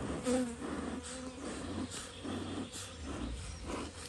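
Honeybees buzzing steadily around an opened hive during a first garden-apiary inspection, a dense close hum with individual bees droning past, no speech.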